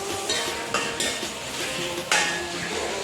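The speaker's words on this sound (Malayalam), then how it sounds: "ഇനി നല്ല ഇളക്കി കൊടുക്കാം" A spoon scrapes and clinks against a pot as tomatoes are stirred into a chicken curry, giving an irregular series of close metallic knocks over a low sizzle, with no voices.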